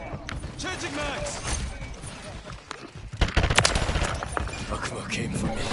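Dense enemy gunfire in Call of Duty Modern Warfare III, rapid automatic bursts and shots that grow louder and denser partway through, with voices talking over the fighting.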